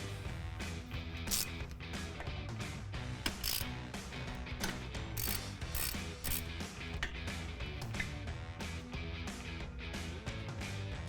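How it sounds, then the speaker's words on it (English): Ratchet with a 13mm socket loosening a brake caliper banjo bolt on a 2012-2020 Dodge Charger, steady quiet clicking and mechanical clatter that runs continuously throughout at low level. "Now we'll go ahead and remove our banjo bolt here using our 13mm socket."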